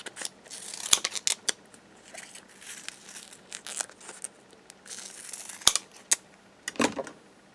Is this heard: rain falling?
no